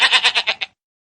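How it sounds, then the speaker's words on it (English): A goat bleats in one quick, wavering call of about six rapid pulses, close and clear, then silence. "Goat makes the sound."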